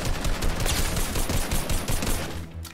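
Rapid gunfire from the video game Fortnite crackles in dense, loud bursts, shots overlapping in quick succession for nearly three seconds before easing off at the end, with no voices over it.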